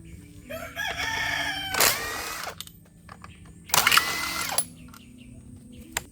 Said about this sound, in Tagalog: Gagamit tayo dito ng 8 mm na socket wrench. Then itong ating impact wrench.